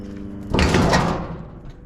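A metal door panel comes off a tow-behind welder/generator being scrapped, a loud scraping clatter of sheet metal that rattles for about a second before fading away.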